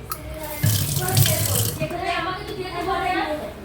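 Water runs from a tap into a sink through a drain net, a steady splashing stream that swells and varies, with a voice speaking over it.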